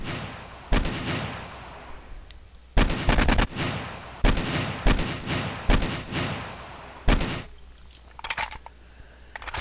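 A rifle in the game 7 Days To Die fires a series of loud, sharp three-round bursts, separated by short pauses and each ending in a fading echo, with no voices.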